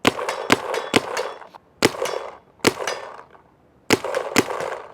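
A paintball marker fitted with a Carbon CRBN Nano carbon-fibre barrel fires four bursts of three to four sharp, dull-edged shots, close and fairly loud, separated by brief pauses with no talking.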